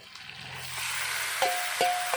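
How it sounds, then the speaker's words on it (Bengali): Potatoes and onions frying in a pan for a desi chicken curry, giving a steady soft sizzle with a few sharper clicks of a utensil toward the end. "এখন এই আলু আর পেঁয়াজগুলো ভালো করে ভেজে নেব। পেঁয়াজের সাথে আলু ভেজে নিয়েছি"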